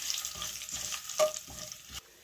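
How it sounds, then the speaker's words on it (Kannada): Curry leaves, cashews and asafoetida for a savoury pongal tempering fry in oil on a low flame, with a soft continuous sizzle broken by the scrape of a stirring spoon and a louder clink near the middle. "ಲೋ ಫ್ಲೇಮಲ್ಲಿ ಈ ಥರ ಫ್ರೈ ಮಾಡ್ಕೋಬೇಕು"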